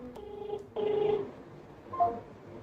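An outgoing phone call rings with short electronic telephone tones: a steady two-tone burst, a louder sustained tone, then a fainter beep. The tones are clear and close, with no talking over them.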